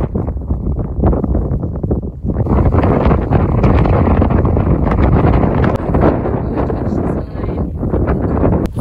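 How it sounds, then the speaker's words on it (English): Strong, continuous wind buffets the microphone at an open wildlife area, a loud, rumbling roar with brief lulls. Faint voices may sit under it. "It was very, very windy."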